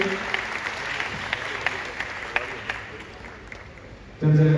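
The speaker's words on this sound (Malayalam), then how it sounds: "നല്ലൊരു കയ്യടിയിലേക്ക് പ്രതീക്ഷിക്കുകയാണ്" An audience claps at a live music show, a steady round of applause with crisp individual claps close by. A loud voice cuts in over the final half second.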